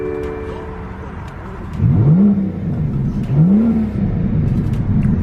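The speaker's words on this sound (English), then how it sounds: "Go ahead and power on that V12." A 2018 BMW M760's V12 engine cranks and fires, then revs twice in quick rising swells before settling into a smooth, loud idle.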